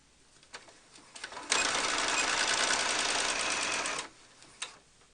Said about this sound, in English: Using a regular stitch, sew along that inside seam.